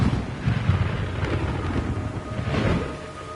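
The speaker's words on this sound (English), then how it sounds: "It's raining blood." Rolling thunder and steady rain in Metal Gear Solid 3: Snake Eater, a low continuous rumble with swelling peaks over a dense hiss of rainfall, moderately loud and without speech.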